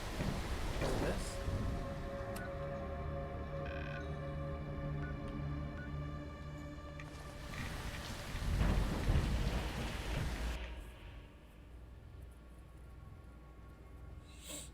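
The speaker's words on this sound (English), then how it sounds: "Plus, it's nice to get out of that storm." Rainstorm in Fallout: London, steady rain hiss with rolling thunder that swells in a loud low boom partway through, then drops to quieter dripping ambience, with some speech mixed in.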